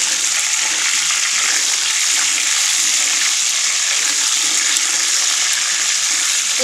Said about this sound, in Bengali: মুরগিটাকে খুবই সুন্দর করে ভেজে নিতে হবে এবং সাবধানে,